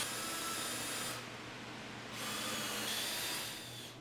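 A power drill whirs steadily as it bores into wood, its pitch and loudness shifting slightly, running continuously with no voices.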